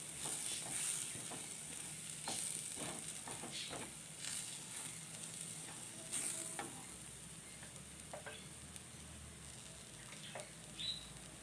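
Garam masala being stirred into anchovy masala frying in a pan, a soft steady sizzle with intermittent scraping stir strokes, fairly quiet and close, with no talking.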